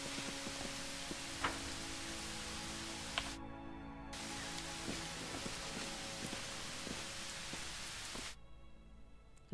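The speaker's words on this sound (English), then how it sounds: "I'm just going to get off of the nasty rain sound real quick." Steady rain in the fantasy role-playing game Pathfinder: Wrath of the Righteous, a dense continuous hiss that cuts out briefly about a third of the way in, returns, then thins out near the end.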